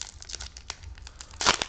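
Plastic wrapping on a Magic: The Gathering Ikoria booster box topper is torn open, giving quick, close crinkling and crumpling that swells into a louder rustle near the end.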